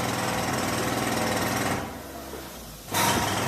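Jackhammers pounding a floor nearby, a loud continuous hammering rattle that drops to a quieter rumble for about a second before the full pounding resumes.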